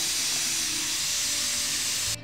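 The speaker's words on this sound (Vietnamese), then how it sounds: "Đó, mình sẽ xì cái hơi ra ha." Steam vents in a steady loud hiss from a pot of braised beef being released of pressure, continuous and close before cutting off abruptly near the end.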